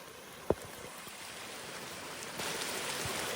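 Creek water after rain runs through natural leaky weirs of leaves, twigs and timber, making a steady broadband wash with one sharp knock near the start, then swelling slightly louder toward the end.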